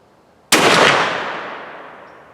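A single 8x57 JR round fired from a drilling, one sharp loud report at close range followed by a long, slowly fading reverberant tail, with no talking.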